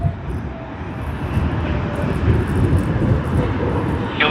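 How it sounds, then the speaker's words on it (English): A DHL cargo aircraft taxis at Sydney Airport toward the cargo terminal, its engines giving a steady, fairly loud roar and whine with no talk over it. "we should be getting a very good view of DHL as they do taxi back all the way to the cargo"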